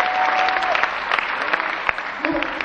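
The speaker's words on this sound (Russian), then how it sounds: "Под ваши бурные и теплые аплодисменты" Audience applause at a youth KVN comedy competition in a palace of culture hall, a dense, lively round of clapping with a few louder claps, under light talk.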